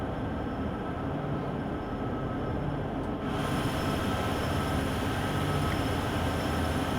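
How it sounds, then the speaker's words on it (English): Long freight train on the Sherman Hill route between Cheyenne and Laramie in the Train Sim World 2 game, a steady loud rolling rumble of wheels and engine drone that thickens with added hiss midway, no talking. "It is quite a long train."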